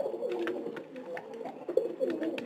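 Pigeons kept indoors with their young, cooing close by in a continuous rolling stream of throaty calls with faint clicks and rustles, no clear talking.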